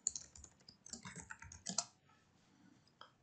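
Keys clatter on a computer keyboard in quick, uneven bursts for about two seconds, then trail off into a few faint, scattered taps; quiet and close, with no voices.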